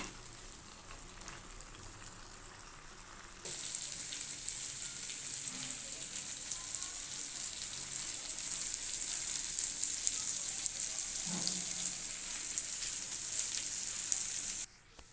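Meat and boiled potato fry in a pan for a Ramadan potato chop, giving a soft, even sizzle that turns sharply louder and brighter partway through, holds steady, then drops off abruptly near the end, with no voices.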